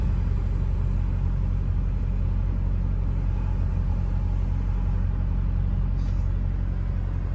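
A 2002 Chevy Silverado 2500HD with an LB7 Duramax diesel and 200k miles driving, a steady, loud low engine rumble with road noise that holds constant throughout.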